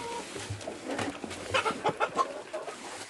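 Farm chickens cluck and murmur close by, a busy, overlapping chatter of short calls over soft background rustle.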